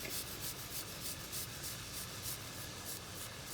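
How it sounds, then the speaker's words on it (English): Two garlic cloves grated for a chicken tomato sauce, a quiet rhythmic rasping scrape repeating in steady strokes, close and alone. "and then I'm going to grate some garlic."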